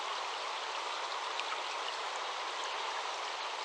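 A forest stream flows in a steady, even rush of water, continuous and moderately loud, with no other sounds.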